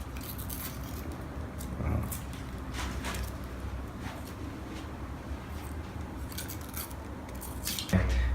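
Protective sticker film peels off laser-cut acrylic parts with faint, crinkly crackles and soft scattered snaps against a quiet background.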